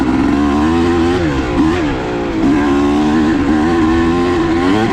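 A two-stroke motorcycle engine runs close by on a warm February trail-riding day, with a buzzing, harmonic-rich idle that rises and dips through several light revs and continues steadily without talk.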